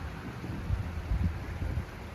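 Rain falls during a morning walk along a path to a lake, with soft, low rolls of thunder rumbling faintly through a steady wash of rain.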